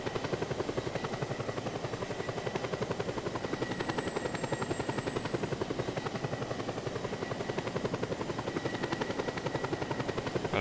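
Helicopter in the video game Just Cause 2 flying steadily, a loud continuous rotor chop with engine whine running throughout, close and alone with no talk.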